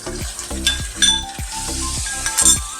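Ginger-garlic paste and minced chicken frying in a pan, with a steady sizzle broken by regular scraping stir strokes about every half second and light metallic clinks of the spoon on the pan.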